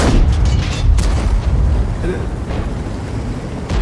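A tank cannon fires in World of Tanks, from the AltProto AMX 30, with heavy booming blasts over a loud, continuous rumble of battle noise.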